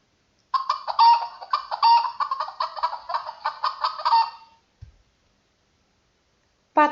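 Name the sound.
hen clucking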